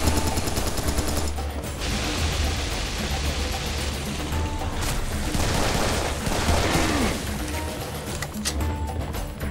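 Dense, loud gunfire from the shooter game Serious Sam 3: BFE on a street full of enemies, with rapid automatic bursts, sharp blasts and mechanical clatter running almost continuously without speech.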